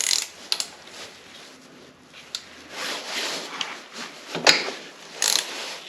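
The cam chain tensioner on a 1980 Honda CB900C is adjusted by hand, producing an irregular run of close metallic ratchet clicks and grinding turns with some scattered sharper clinks, and no talking.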